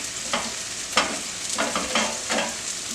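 Fish frying in a pan for soft Mexican tacos, a steady close sizzle with several short scraping or stirring bursts spaced across a few seconds.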